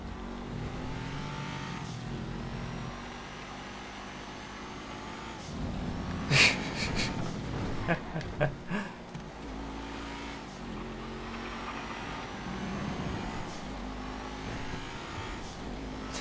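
A car engine in a GTA race drones steadily and rises into revving bursts with tire noise, close and fairly quiet, with a cluster of sharp clatters and bumps in the middle of the run.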